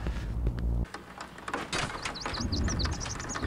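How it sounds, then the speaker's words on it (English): Quick high chirping bird calls in a video game, a short run of rising tweets heard over a busy, noisy game background after a heavy low thud. "Aha, there's a bird."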